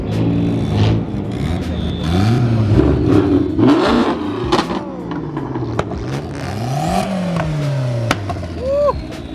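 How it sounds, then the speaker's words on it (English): A Mazda Miata engine revs repeatedly at a JDM car meet, loud and close, with rising and falling pitch sweeps from the exhaust while a crowd chatters around it. "This little Miata sounds crazy."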